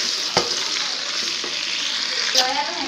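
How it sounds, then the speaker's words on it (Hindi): Steady, close sizzling of whole spices frying in hot oil for masala pulao, with a couple of brief stirring clatters and no talking. "सिर्फ 1 मिनट तक मैं इस ऑयल में इनको भूनूंगी"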